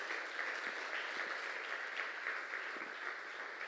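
A church congregation claps together in steady, even applause, moderately distant and somewhat quiet, sustained without pause and with no voices heard over it.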